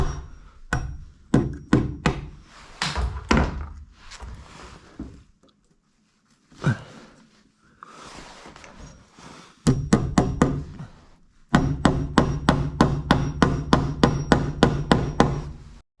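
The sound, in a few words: hammering with a metal hammer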